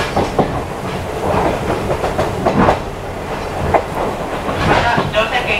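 Oigawa Railway steam-hauled passenger train running, with a steady rolling rumble and rhythmic clickety-clack of the carriage wheels over rail joints, fairly loud and continuous throughout.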